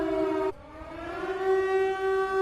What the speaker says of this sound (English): Hit me with the friggin' sirens.